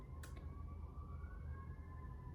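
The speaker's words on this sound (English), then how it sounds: "Well, I'm hearing a siren." Emergency vehicle sirens wail outside, faint and distant: overlapping steady tones slowly rising in pitch against a low background hum, with a brief sharp knock near the start.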